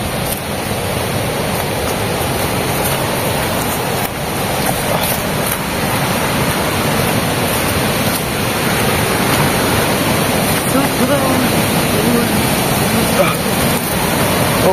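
A high waterfall pours strong rushing water in a steady, loud, unbroken roar that lasts throughout.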